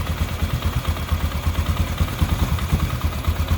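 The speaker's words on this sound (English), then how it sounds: "Fire it up. It's idling pretty decent." A Polaris Sportsman ATV engine idles steadily up close with a rapid, even low-pitched clatter, its carburetor recently reinstalled and otherwise bogging at half throttle.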